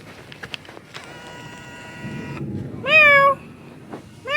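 Kittens outdoors in the rain, with soft scuffling and a distant tonal cry early on, then one loud, close meow and the start of another at the end.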